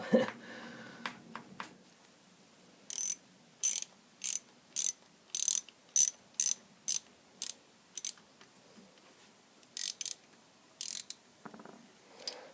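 A stuck bolt turned with a ratchet wrench, bursts of quick, crisp ratcheting clicks repeated in short runs at close range, with quiet gaps between them and no voices.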